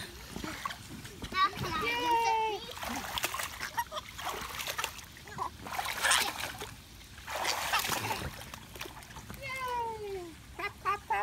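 A child jumps into a swimming pool with a splash, water churning and spattering close by while an adult's voice and a voice carry on over the splashing.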